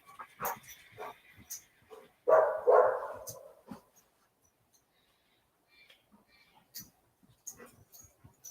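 A dog barks in a few short bursts, loudest mid-clip, amid scattered household noises and brief faint voices in a casual indoor setting.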